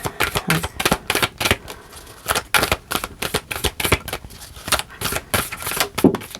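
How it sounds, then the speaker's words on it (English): Tarot cards are shuffled in quick repeated bursts of crisp riffling and slapping, close up, with no talking. "All right, I'll just keep shuffling."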